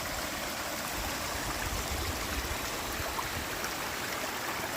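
Ivy Creek, a small stream along the Appalachian Trail in Shenandoah National Park, flows steadily with an even, close rushing and gurgling wash, continuous and unbroken.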